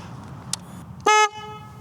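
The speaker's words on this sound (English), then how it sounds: "this horn here is much louder. So I can test it for a second so that you can hear it." A new, louder aftermarket horn on a Royal Enfield Meteor 350 motorcycle gives one short, loud, bright honk close up, preceded by a tiny click.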